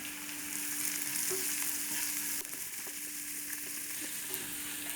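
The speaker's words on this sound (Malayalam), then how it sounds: "അപ്പം നമ്മുടെ കടുക് താളിപ്പൊക്കെ റെഡിയായി വന്നിട്ടുണ്ട്" Mustard seeds tempering in hot oil for a Kerala papaya upperi, after chilli flakes are added, give a steady close frying sizzle with faint popping and crackle that runs throughout, with no talk.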